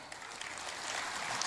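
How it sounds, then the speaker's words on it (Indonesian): An audience at a speech applauds Housing Minister Pak Ara Sirait, a dense, even wash of clapping that swells slightly and continues without talk. "Tepuk tangan untuk Pak Ara."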